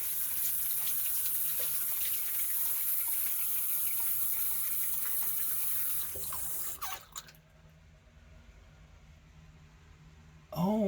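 Tap water gushing to rinse the sides of a sink drain during a clean-out, a steady close splashing stream that cuts off partway, leaving quieter dripping before a short burst of sound at the end.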